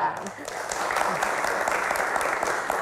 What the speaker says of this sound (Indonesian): Tepuk tangan teman-teman, terima kasih